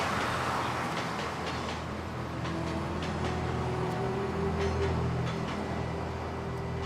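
Train rumbling steadily past near a roadside garden, a continuous close roar with faint squeals and a rising tonal whine toward the end, loud and unbroken for about seven seconds.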